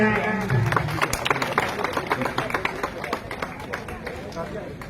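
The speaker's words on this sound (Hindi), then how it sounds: "आप सभी की एक बार जोरदार तालियां हो जाए" An audience at a school unveiling ceremony in Hukumpura, Rajasthan, gives a round of applause, a thick crowd clatter that thins out under an amplified voice speaking.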